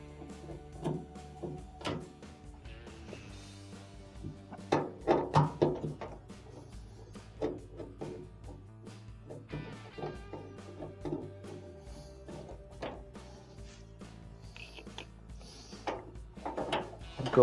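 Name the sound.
unscrewing Phillips screws holding LG dryer door catch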